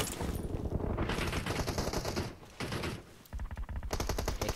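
Loud bursts of automatic gunfire in PUBG, several separate volleys broken by brief pauses, crackling and rapid, with no voices over them.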